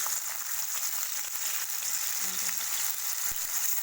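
Drumstick pieces fry in hot oil for a pickle, giving a steady, dense sizzle that fills the clip without a break, with a faint low clunk near the end and no talking.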